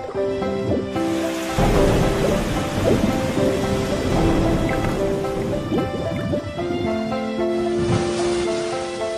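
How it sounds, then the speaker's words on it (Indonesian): A fierce thunderstorm pours heavy rain over a sea voyage, with deep rolling thunder rumbles under a constant loud downpour, and sustained musical tones running beneath the storm. "Terkadang hujan badai yang ganas menghadang perjalanan mereka."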